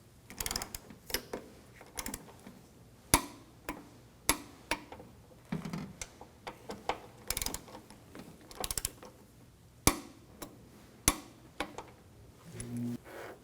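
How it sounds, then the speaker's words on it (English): A torque wrench tightens the hood hinge bolts on a 2011-2018 Volkswagen Jetta 2.0L to 16 foot-pounds, giving close, irregular ratcheting clicks and sharp metallic ticks spread over the whole stretch with no voices. "And we'll torque these to 16 foot-pounds."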